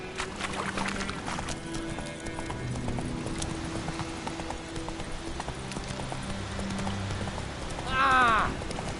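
Roach the horse galloping in The Witcher 3 video game, a rapid, steady clip-clop of hooves on the ground with a low ambient music bed underneath, ending in a short rising whinny-like sweep near the end.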